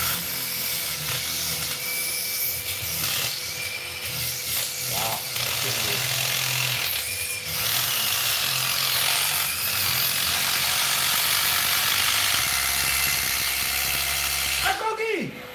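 Two cordless impact drivers, a Milwaukee 2853-20 and a Metabo HPT WH36DB, run side by side with a loud, continuous high whine and a rapid hammering rattle for about fifteen seconds, with voices now and then over the noise.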